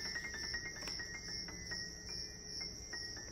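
A cricket chirps continuously and close by in rhythmic, high pulsing trills, alone with no voices.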